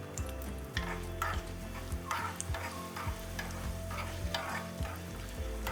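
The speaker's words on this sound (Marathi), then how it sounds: "फोडणी चांगली तडतडली की तिला थोडा वेळ थंड होऊन द्यायची" Curry leaves, turmeric and asafoetida crackle in hot oil as a tempering for Maharashtrian raw mango dal. A steady close sizzle runs throughout, broken by sharper popping bursts every second or so, with no voices.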